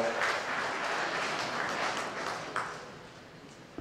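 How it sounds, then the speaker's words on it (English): An audience in a lecture hall breaks into steady applause before a talk on police and governance has finished, a dense, even wash of many hands clapping at moderate distance with no voices over it. "when a group claps before a speaker has finished"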